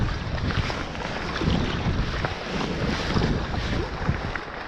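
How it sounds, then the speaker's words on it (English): Steady wind gusting over open water during a boat crossing of the Inside Passage, a loud continuous roar with microphone buffeting and waves washing against the hull, with no talking. "The wind was starting to pick up."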